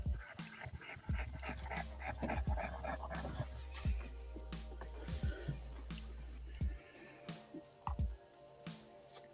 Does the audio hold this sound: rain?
no